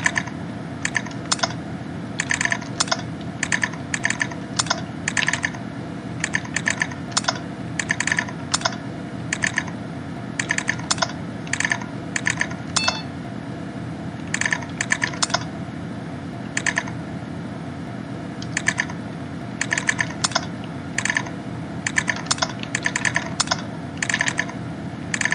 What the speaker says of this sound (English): somewhat unprofessional typing